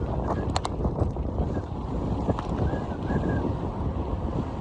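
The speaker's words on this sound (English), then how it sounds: "Wow, there's some wind. Dang, that is crazy, guys. That is a grand bit of wind here." Strong wind gusts outdoors on a long early-spring ride, a steady broadband roar with mic buffeting throughout, no voices.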